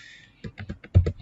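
Brief burst of typing on a computer keyboard, with about six quick, close key clicks in an uneven rhythm following a moment of faint background hum.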